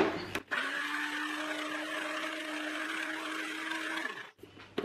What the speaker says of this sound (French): moi j'ai mixé environ 30 secondes pour vraiment avoir quelque chose de bien fin en termes de texture